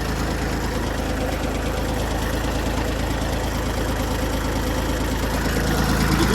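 Iseki TU1500F compact tractor's diesel engine running steadily at idle, a close, even knocking rumble that swells slightly toward the end.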